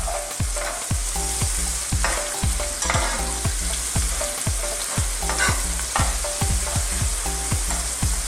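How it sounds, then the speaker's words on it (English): Beef stew with oregano, thyme and tarragon is stirred in a hot pan, a rhythmic series of close spoon strokes roughly every half second over a continuous loud sizzle. "We'll give that a little mix up there."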